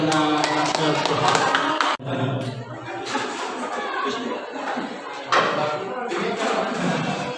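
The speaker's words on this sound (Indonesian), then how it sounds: "Mari kita berikan aplaus kepada siswa-siswi" Students at a National Teachers' Day school event at MAN Manggarai Timur receive sustained applause from a crowd, a dense wash of clapping that rises again partway through, mixed with scattered voices.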